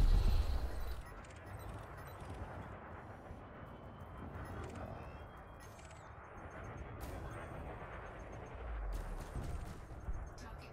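Spaceship weapons fire in Elite Dangerous, a rapid run of muffled, rumbling shots over engine drone, with someone talking at times.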